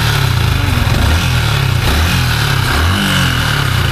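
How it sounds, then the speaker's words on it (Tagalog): A Yamaha Sniper 155R motorcycle engine, a little over a year old, idles loud and close with a steady, even mechanical chug and no talk. "Tahimik pa nga niya makina."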